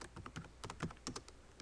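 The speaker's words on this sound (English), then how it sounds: "I'm going to type in a specific address" Keys tapped on a computer keyboard while entering a street address, a quiet, irregular run of sharp clicks heard up close, with no talking.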